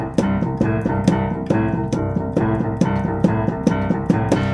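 A boogie woogie piano left-hand pattern is played straight and fast in rock and roll style, a driving run of repeated low chords in an even rhythm, close and alone.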